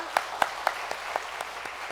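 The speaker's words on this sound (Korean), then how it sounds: "한번 박수 한번 쳐주세요." A church congregation claps during a Sunday worship sermon, a few sparse, distinct claps spaced about a quarter second apart and fairly faint.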